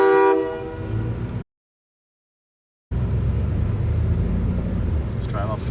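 A train horn fitted to a Ford Raptor pickup truck blares a loud, close, chordal blast at the start, cutting off abruptly, followed by a stretch of silence and then engine and road rumble from the vehicle.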